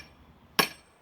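A hammer strikes a steel wedge set in wood for splitting: a single sharp, metallic clank that rings briefly and fades in an otherwise quiet moment.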